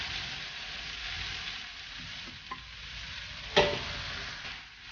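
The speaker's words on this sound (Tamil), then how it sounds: "ஒரு 1 minute இந்த மசாலாலாம் வதங்குற வரைக்கும் அப்படியே அடுப்பில் விடுங்க" Masala for vendakkai mandi sautéing in a pan on the stove, a soft steady sizzle with a couple of brief stirring clinks, the second louder, and no talking.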